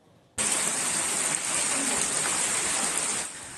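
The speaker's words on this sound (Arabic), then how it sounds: "أمطار عاصفية تتهاطل على مجموعات من المناطق بشمال المغرب" Heavy storm rain pours down in Tetouan, northern Morocco, a dense, steady roar that starts abruptly and holds loud throughout, with no voices.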